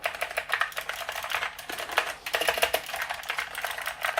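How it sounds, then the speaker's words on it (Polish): Rapid, crisp clicks of Genesis Thor 150 hybrid keyboard keys with Blue-style switches being pressed in quick succession, close up and fairly quiet, with no talking. "jak ta klawiatura klika"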